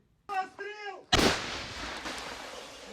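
A single heavy 122 mm self-propelled howitzer blast booms out, loud and close, its deep roar rolling and decaying over a couple of seconds after a brief shouted voice.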